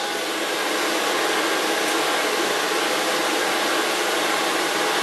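Steady, loud whooshing hum of a blow dryer running continuously, with a high-pitched whine on top and no talking.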